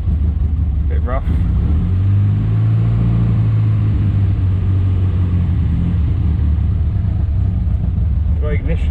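A Morris Minor engine runs rough, a loud, close, continuous low rumble with an uneven, lumpy tone, while speech comes in faintly at the start and end.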